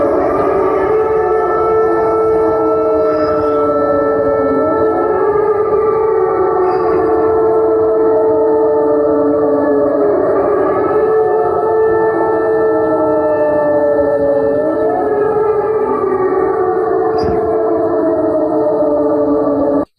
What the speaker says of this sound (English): Let me play for you some of this footage of these sirens all last night into the early morning